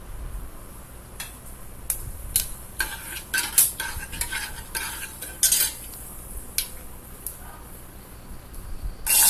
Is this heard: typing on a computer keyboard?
no